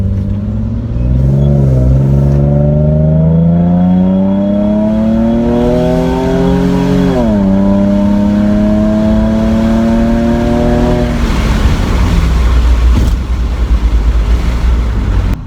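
A 2003 Nissan 350Z engine pulls hard under acceleration from inside the car, its loud rising drone climbing through the gears with a shift near the midpoint before easing off to road noise.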